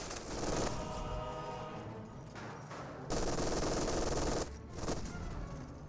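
Machine gun fire from an MG bunker in Company of Heroes 2 rattles in loud sustained bursts, rapid and dense, with short pauses between volleys over a background of battle noise.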